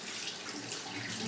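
Running tap water rinsing off after shaving, a steady close hiss of flowing water filling the whole moment without pause or talking.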